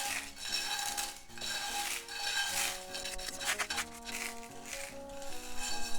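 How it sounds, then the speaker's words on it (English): Dried homemade furikake being broken into small pieces in a frying pan, with continuous close scraping and rubbing of utensil against the pan, shifting in intensity, no talking. "Then I'm gonna kind of break it onto small pieces like this."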